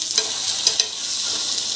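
A cheese and potato stuffed omelette fries in a pan with a steady, close sizzling hiss, broken by a few faint crackles and light scrapes near the start.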